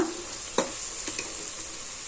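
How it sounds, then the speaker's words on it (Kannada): Masala with mutton sambar powder fries gently on a medium flame, giving a soft, quiet sizzle broken by a couple of stirring scrapes. "ಎಣ್ಣೆ ಬಿಟ್ಕೊಳ್ಳೋವರೆಗೂ ಮೀಡಿಯಂ ಫ್ಲೇಮಲ್ಲಿ ಚೆನ್ನಾಗಿ ಫ್ರೈ ಮಾಡ್ಕೊಳ್ಳೋಣ"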